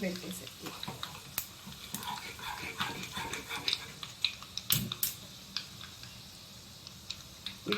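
Cumin, chana dal, urad dal and dried red chilies frying in hot oil: a low, crackling sizzle with scattered pops and ticks, mostly under a person speaking.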